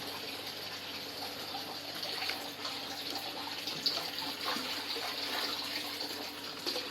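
Biofloc mixture splashes and spreads across the water of a fish pond, a steady low wash of watery rushing and trickling heard alone at a distance without any talk.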